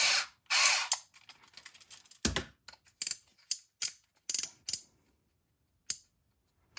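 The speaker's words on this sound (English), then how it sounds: "I'm going to screw the 2 pieces together." An M3 by 10mm screw driven into 3D printed plastic puzzle box pieces, heard as a series of sharp ratcheting clicks and short scraping bursts, close up and irregular, with quiet gaps between turns; no speech.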